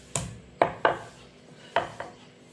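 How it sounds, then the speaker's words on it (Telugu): A piece of ginger is pounded in a mortar with five sharp, separate thuds at an uneven pace, each knock close and distinct against a quiet background. "ఈ అల్లం ముక్కని దంచి"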